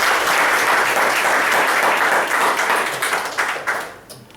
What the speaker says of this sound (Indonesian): Tepuk tangan buat para leader ya.